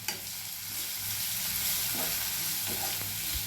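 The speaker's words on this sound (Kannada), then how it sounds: "ಸೊಬ್ಬಸಿಗೆ ಹಾಕಿ ಸ್ವಲ್ಪ ಫ್ರೈ ಮಾಡ್ತೀನಿ ರೀ ಇದನ್ನು ಸ್ವಲ್ಪ ಕೆಳಗ ಮೇಲೆ ಮಾಡ್ತೀನಿ ರೀ" Dill leaves fry in a hot pan while being turned over, a steady close sizzle with soft scraping stirs mixed in and no voices.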